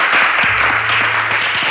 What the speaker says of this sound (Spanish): Va, que un pedazo de aplauso.